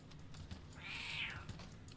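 A single soft, fairly distant cat meow rising and falling over about half a second against a faint room hiss.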